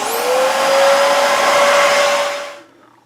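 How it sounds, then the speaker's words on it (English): A household vacuum cleaner running steadily and loud close by, used to clean inside a furnace's cold air return, a constant whine that holds for about two and a half seconds before cutting off. "I'm going to turn the vacuum cleaner on."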